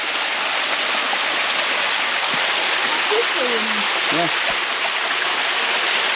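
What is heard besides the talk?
waterfall and stream flowing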